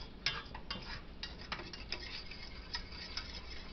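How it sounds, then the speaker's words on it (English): A small whisk stirs copycat KFC brown gravy in a pan, giving a faint, steady run of quick, light metallic clicks and ticks against the pan. "And whisk this bad boy around."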